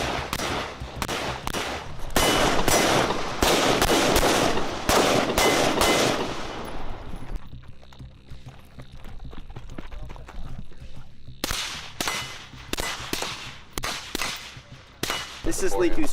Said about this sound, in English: This is Liku's first time shooting a course of fire from today. Moving, shooting on the move.